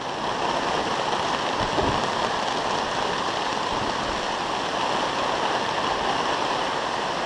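Heavy rain pours steadily outdoors at a Halloween haunt site, a dense continuous broadband hiss of downpour with no gaps, fairly loud throughout.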